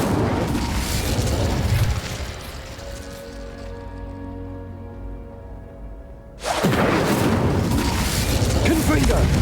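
An Incendio fire spell in Hogwarts Legacy: loud roaring bursts for about two seconds, then a quieter droning stretch, and a second strong rushing blast that keeps going to the end.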